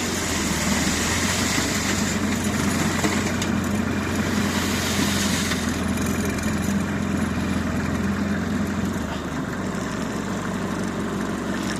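A homemade tractor engine idles on its own with a steady, loud, low rumbling drone that holds evenly throughout, close by and without speech.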